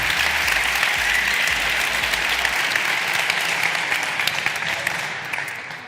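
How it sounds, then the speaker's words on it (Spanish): A television studio audience claps loudly and continuously, a dense burst of applause for a prize winner that gradually tapers toward the end. "Un aplauso."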